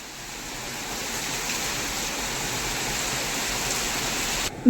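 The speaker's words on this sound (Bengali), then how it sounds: "বাইরে তো ঝুমঝুম করে বৃষ্টি পড়ছে" Heavy rain falls steadily outside a balcony, a dense continuous hiss that holds at an even, loud level and then cuts off abruptly at the end.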